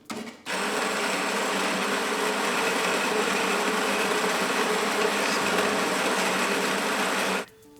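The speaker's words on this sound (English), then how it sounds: "Now it's grind time." CASABREWS 5700GENSE all-in-one espresso machine grinding coffee beans with its built-in grinder, a loud, steady whirring drone that starts abruptly, runs for about seven seconds without change and then stops.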